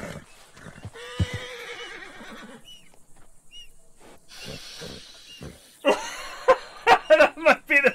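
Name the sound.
horse neighing in a video game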